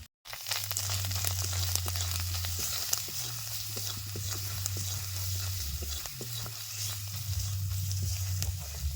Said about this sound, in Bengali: নুন হলদি দিয়ে পেঁয়াজ আর আদা ভালো মতো ভাজা হয়ে গেছে